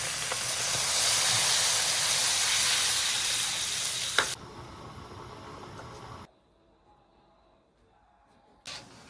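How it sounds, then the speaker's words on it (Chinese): Boiling water poured into hot chili oil fried with doubanjiang and hotpot base in a wok for Sichuan maoxuewang, a loud, close burst of steamy sizzling that rumbles for several seconds, then quiets to a softer bubbling hiss before a brief final flare. "炒出红油， 加入开水，"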